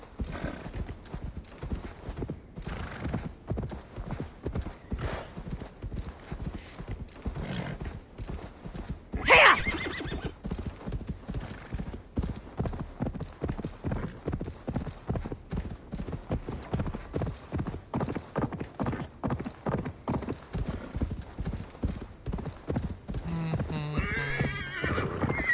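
A horse in Assassin's Creed Valhalla gallops with a fast, regular pounding of hoofbeats throughout, broken around the middle by a loud, shrill neigh, close and prominent.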